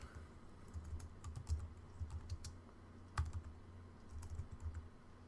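Quiet, close keystrokes on a computer keyboard come in short uneven runs of soft taps over a low room hum as a code comment is typed, with one sharper key hit midway.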